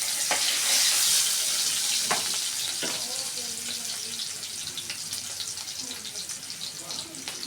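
Finely chopped onion hits hot oil in a frying pan for a mushroom pepper garlic curry, a loud hiss that settles into a steady sizzle with a few stirring knocks.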